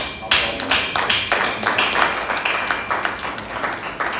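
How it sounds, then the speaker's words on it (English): Audience at the Adinkra Alphabet book launch applauding, a dense burst of many hands clapping that starts abruptly and continues steadily at close range, with a voice heard faintly underneath. "And we must give a good applause."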